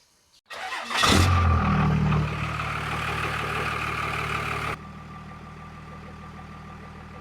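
A car engine cranks and catches after a loose ground wire was reconnected, surging loudly up close before settling into a steady idle that drops quieter near the end.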